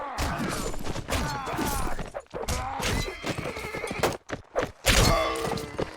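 Horses in a video game battle neigh and whinny repeatedly and loudly, overlapping with clopping hooves and scattered thuds, a busy, chaotic stretch with brief gaps between bursts.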